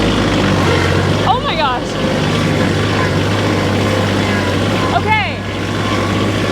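A KIOTI manual transmission tractor engine drones steadily and loudly close by throughout as it pulls away, with brief speech breaking in twice over the constant low rumble.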